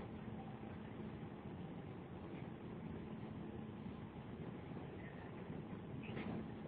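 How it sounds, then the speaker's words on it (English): A steady, fairly loud rumble of a train rolling along the rails at a train station in western Sydney, with constant low droning and faint metallic squeals near the end; no voices. "here we are, we're at the train station now."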